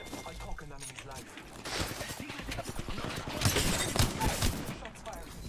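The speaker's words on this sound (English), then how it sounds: "Shots fired." Rapid bursts of gunfire crackle in a ranked Apex Legends match, shots overlapping in dense volleys that swell toward the middle, with game voices faintly underneath.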